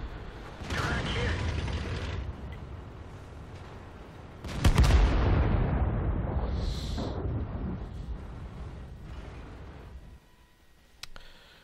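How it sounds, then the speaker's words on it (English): World of Tanks artillery fire: a heavy booming impact midway with a long rumbling decay, set among mechanical creaks and clanks of tank gameplay, plus a brief high whine and a faint later thud. "artillery is shooting at that IS-6"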